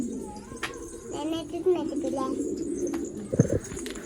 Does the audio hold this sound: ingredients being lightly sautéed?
no